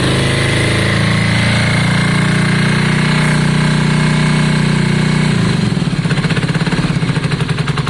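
Yamaha Virago motorcycle V-twin engine running with a cold bottom cylinder, a loud, steady low drone that turns to a rough, uneven pulsing chug toward the end.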